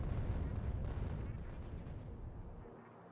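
Rockets slam into a massive alien hive in Factorio, a heavy rolling barrage of low explosions that starts loud and gradually fades, with a voice speaking over it.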